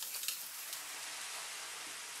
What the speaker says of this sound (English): Now I'm going to add some red wine